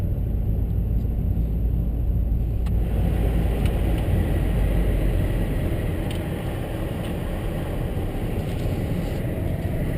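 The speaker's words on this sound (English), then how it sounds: "Driving up the ramp that's behind every other hotel in this place." A car climbs a ramp behind a hotel, heard from inside as a steady, loud low engine and road rumble that carries on without a break and has no talk over it.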